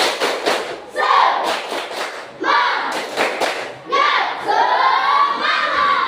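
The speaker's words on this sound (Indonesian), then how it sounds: "Tepuk semangat." A class of children performs a rhythmic spirit clap chant, with sharp bursts of group clapping and loud shouted voices close by.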